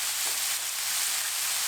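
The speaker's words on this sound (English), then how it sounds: "get all your beef and your pork up and fry it all up" Beef and pork fry in a pan until crispy brown, giving a steady, close hiss of sizzling fat that carries on evenly throughout with no talking.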